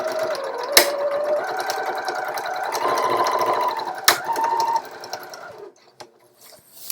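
A sewing machine runs top stitching through several fabric layers, giving a fast, even mechanical chatter that changes speed and pauses briefly twice before stopping near the end.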